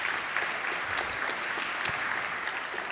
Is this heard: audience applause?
yes